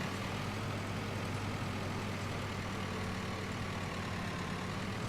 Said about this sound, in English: Right, we're back here at our tractor.